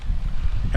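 Strong wind buffets the microphone at a construction site beside a stormwater piping system, a dense low rumbling roar that surges and persists throughout the short stretch, with a voice briefly present.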